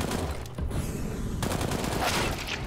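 Gunfire in Counter-Strike: Global Offensive during a competitive match, a dense rattle of rapid shots and muffled bursts running almost continuously with short gaps and shifting intensity.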